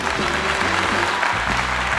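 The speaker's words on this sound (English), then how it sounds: "Maybe I'm going to put in an applause track." A canned applause track plays at an online trading card game awards show, steady dense clapping throughout with music and a voice faintly underneath.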